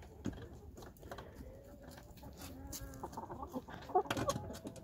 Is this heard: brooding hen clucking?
yes